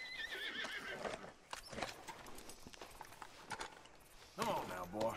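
Horse whinnying and clip-clopping hooves in the video game Red Dead Redemption 2, with someone talking over the game sounds and a neigh near the end.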